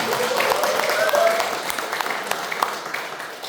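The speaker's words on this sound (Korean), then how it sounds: "뜨거운 박수로 환영하겠습니다." Warm applause from a crowd at the opening of a public hearing fills the room, steady clapping that holds for a few seconds and then tapers off.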